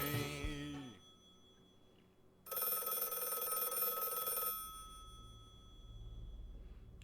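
A telephone rings in a single long bright burst of about two seconds after a short noisy moment, then the room falls quiet apart from a low hum.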